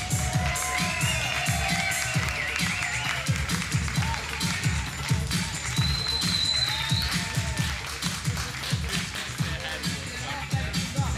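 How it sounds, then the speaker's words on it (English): A crowd at a Mr. Entertainer of the Year pageant claps and cheers continuously, with whoops and shouts rising and falling through a steady wash of applause heard from within the audience. "another round of applause for Mr. Entertainer of the Year, Rashawn Montrese"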